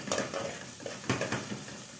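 Finely chopped garlic browning in a pan, a soft close sizzle with light stirring taps and scrapes at intervals, fairly quiet and without talk.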